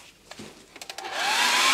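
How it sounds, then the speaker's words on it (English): A hair dryer dries brushed-on ink on a hot plate, switching on after a few soft clicks and handling noises and rising into a loud, steady close-up whoosh. "And we dry that off with the hairdryer again."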